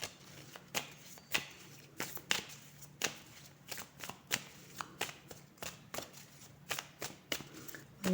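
Oracle cards are shuffled close by in a run of soft, crisp riffling snaps that repeat about once or twice a second, alone and quiet.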